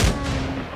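A grenade blast in the video game Insurgency: Sandstorm, one loud booming burst up close that rolls off into a rumbling tail, with no voices.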